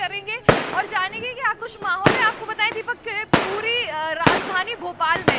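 Firecrackers and fireworks crack sharply outside a cabinet minister's bungalow in Bhopal during a Diwali-like celebration, several loud isolated bangs spaced a second or so apart under a man's continuous nearby reporting voice.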